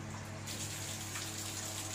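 Water pours steadily from a waterfall-style bathroom spout after a diverter cartridge repair in an eleventh-floor flat with a pressure pump, a continuous broadband hiss that brightens sharply just after it starts, fairly close and with no talking.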